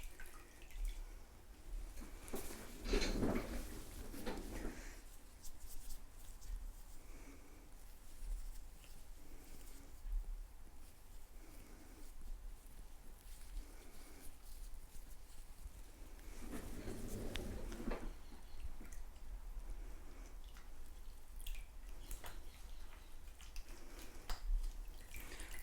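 Water running and dripping into a sink as it is changed during a facial, a faint, intermittent patter and trickle with a few louder splashes over a steady background.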